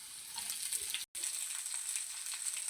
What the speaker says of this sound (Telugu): సన్నగా కట్ చేసుకున్న ఉల్లిపాయలు అయితే ఇందులో వేసుకుందాం.